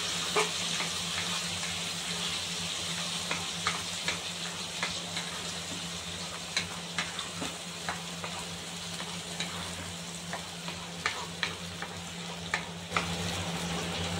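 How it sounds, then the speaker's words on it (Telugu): Curry leaf paste fries with cumin in a pan, giving a steady, fairly quiet sizzle with a constant hum underneath and irregular small pops and ticks throughout. "ఇందులో ఈ కరివేపాకు పేస్ట్ని వేసి బాగా ఫ్రై చేయాలి ఫ్రెండ్స్"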